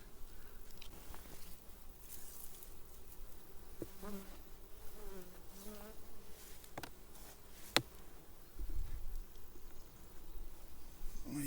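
Honey bees buzzing around beehive frames, a close, continuous hum of many insects with a few knocks and handling sounds from the frames.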